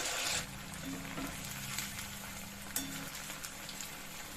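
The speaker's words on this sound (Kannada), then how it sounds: "ಫ್ರೈ ಮಾಡ್ಕೊಂಡ್ಬಿಡೋಣ. ಈಗ ಗೋಬಿಯನ್ನು ಹಾಕೊಂಡ್ಬಿಡೋಣ." Cauliflower (gobi) pieces fry in hot oil over a medium flame for gobi manchurian, giving a steady, close sizzle throughout with a few soft clinks and stirring sounds.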